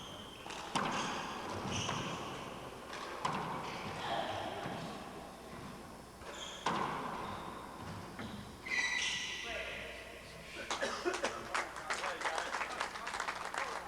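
A quiet, polite crowd applauds after a rally at a 1996 four-wall handball nationals match, with crisp ball smacks echoing off the court walls beforehand and a commentator talking throughout.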